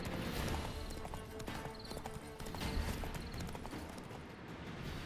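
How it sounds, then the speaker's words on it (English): Horse hooves clip-clopping in The Witcher 3 video game, a steady trotting rhythm under a dense layer of game ambience and music. "Whoa there, Roach."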